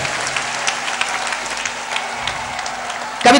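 A large audience at a Hindi poetry gathering at Ramlila Maidan claps loudly and steadily, a dense crowd applause that ends with a sudden louder burst.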